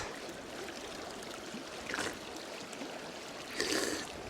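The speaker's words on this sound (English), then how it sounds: "We just reached the river" Steady broadband rush of a river stream flowing near a nomad camp in Mongolia, continuous and moderately loud, with a couple of brief splashy swells as water is scooped or disturbed.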